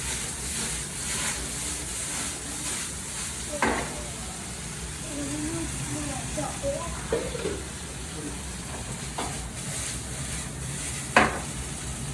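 Cantonese-style sticky rice stir-fries in a pan with a steady, dense sizzle, broken by occasional scrapes and knocks of a utensil against the pan.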